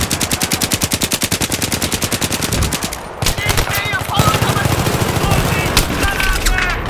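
A machine gun in the video game Battlefield 3 empties a whole magazine, first as a loud, rapid, evenly spaced stream of shots for about three seconds, then as denser, overlapping gunfire that continues to the end.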